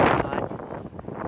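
Gusty wind buffets a microphone outdoors beside the old London Wall, a steady broadband roar that swells and dips throughout the short stretch without any talking.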